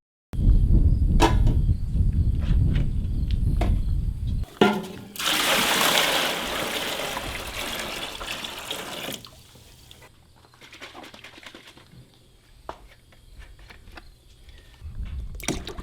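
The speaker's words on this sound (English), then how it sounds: "you want to pour the whole bottle in it" A whole bottle of scent control liquid poured into water, a continuous glugging splash and pouring rush of several seconds between handling clatter and quieter drips, close, with no talk.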